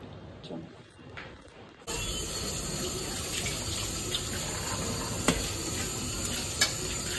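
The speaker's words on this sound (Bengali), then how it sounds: "এই যে বন্ধুরা এখন বাসন ধোয়া হচ্ছে।" Dishes being washed under a running kitchen tap at home: the water comes on abruptly after a quiet, faintly noisy start, then streams steadily, with a couple of brief clinks from the dishes.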